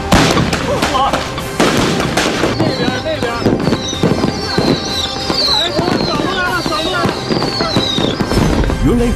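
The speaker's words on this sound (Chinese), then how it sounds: "烟花点燃之后" Fireworks lit and bursting in rapid succession, loud crackling pops and bangs with whistling streaks rising throughout, dense and continuous over a steady background roar.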